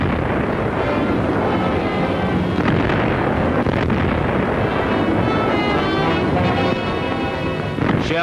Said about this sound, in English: Nazi Big Berthas on the French side of the channel are firing at the convoy